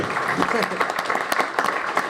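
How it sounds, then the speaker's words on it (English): An audience at a swimming pool club meeting gives a round of applause, dense overlapping clapping that runs throughout while a voice talks over it. "let's have a round of applause"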